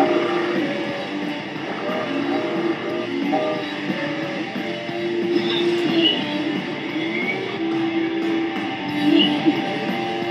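A train attack sound effect from the Yu-Gi-Oh GX anime rumbles steadily with rail clatter and a squealing metallic whistle, mixed under voices talking.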